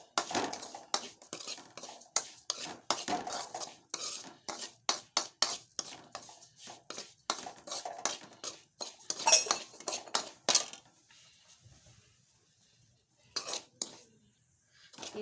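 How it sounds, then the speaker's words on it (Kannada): Almonds and cashews roasting in a pan while a metal spoon stirs, giving a long run of sharp, close clinks and scrapes in an uneven rhythm, then a near-silent stretch with a few last taps. "6 ಬಾದಾಮಿ 6 ಗೋಡಂಬಿ ಹಾಕಿ ಹುರಿತೀನಿ ನೋಡ್ರಿ."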